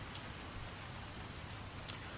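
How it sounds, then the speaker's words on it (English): Heavy rain falling on cobbled streets at dawn, a steady, even hiss of close downpour spread across the whole clip with no voices. "you awake at dawn to the sound of heavy rain falling on the cobbled streets outside"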